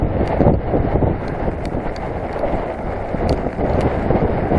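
Steady, loud wind buffeting the microphone in a continuous low roar on a wet hillside of Blencathra, with no talking.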